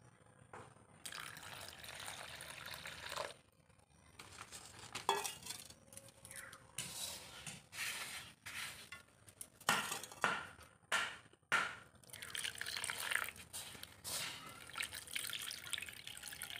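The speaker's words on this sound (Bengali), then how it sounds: "এরপর আমি দিয়ে দেব উষ্ণ গরম জল।" Warm water is poured into semolina for phuchka dough, heard as soft, intermittent splashes, drips and small clinks of a bowl, quiet and close, with no talk.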